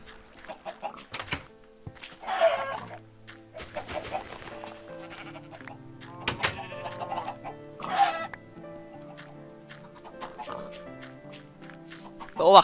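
Chickens in the video game Minecraft give short, clucking bursts at intervals, mixed with other game sounds.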